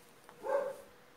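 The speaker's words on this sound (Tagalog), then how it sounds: "Tumatawag yung aso." A dog lets out one short bark, moderately distant and fairly faint, in an otherwise quiet indoor room during an online class.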